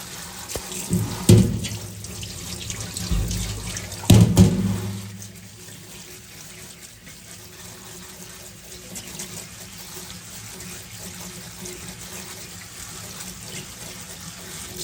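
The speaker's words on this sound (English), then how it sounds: "I'm just going to rinse them off, rinse any little bugs or anything that might be on there off." Running tap water rinsing redbud blossoms in a kitchen sink, a loud gushing stream for about five seconds that then drops to a softer steady trickle and drip.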